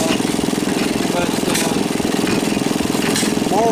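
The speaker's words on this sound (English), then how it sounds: "it's a fairly old engine" An old antique engine fitted with an unusual old carburetor and a gear drive runs steadily, a loud continuous chugging with a rapid, even mechanical rhythm close by, with faint voices in the background.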